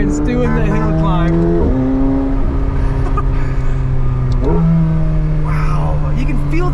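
A McLaren 750S engine revs hard through rising gears on a hill climb, with sharp shifts and pitch drops, loud and close, while people talk over it.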